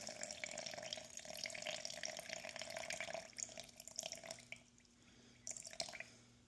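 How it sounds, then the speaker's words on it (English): Tap water runs and splashes steadily into a container as 100 grams are added to a sourdough starter on its ninth day of feeding, close and continuous, easing and trickling toward the end. "Then we're going to add 100 grams of water."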